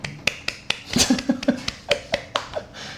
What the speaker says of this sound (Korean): 고생한 자신을 향해 박수.